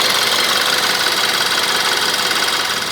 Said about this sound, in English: just to make sure that the electric fans are kicking on